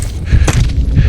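Gunfire from the video game Call of Duty Modern Warfare: one loud, sharp shot or burst near the middle, over a constant low rumble of game sound.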